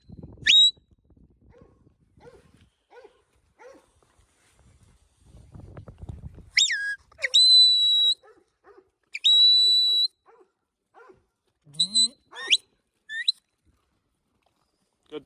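Farm dogs, Duke and Gus, out in a paddock with young cattle, heard as scattered distant barks and yelps mixed with sharp high whistles, spread over a mostly quiet stretch.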